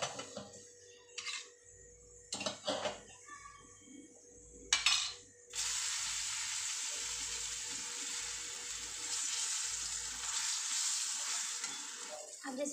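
Eggplant pakoras frying in a pan, first with scattered clatter and stirring knocks, then a strong continuous hiss of sizzling oil filling the rest at moderate level.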